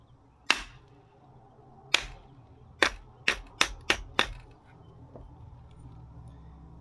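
Seven sharp, loud hammer strikes, two spaced apart then five in quicker succession, over faint background hum with no talking.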